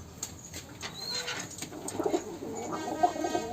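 A prized pigeon in a loft of Rajshahi local Giribaj birds coos in low repeated calls, with faint wing flutters and light chirps nearby, fairly close and without talk.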